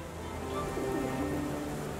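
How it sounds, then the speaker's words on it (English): Rain falls steadily in the Sherlock Holmes The Awakened video game, a constant, even hiss with no breaks or pauses. "People don't tend to come out for flowers when it rains."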